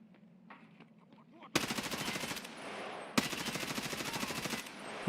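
Machine gun fire in Escape from Tarkov during a PvE BTR mission: after a quiet stretch with faint talk, two long sustained bursts of rapid, loud, evenly spaced shots rattle out back to back.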